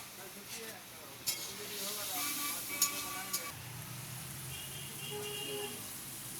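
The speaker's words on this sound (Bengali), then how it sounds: "এই দেখুন টমেটম দিয়ে দিল, কষানো হবে" Faint sizzling of spices and tomato frying in a pan, with occasional metallic clinks and stirring scrapes, and a voice talking softly in the background.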